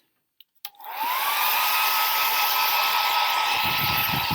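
Small hair dryer switched on after a couple of clicks, settling into a loud, steady whooshing roar with a constant whine, close and uninterrupted.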